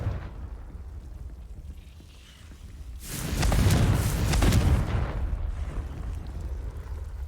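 A Confringo fire spell explodes in the video game Hogwarts Legacy, a sudden loud burst swelling into a roaring, crackling blast that fades into a lingering rumble.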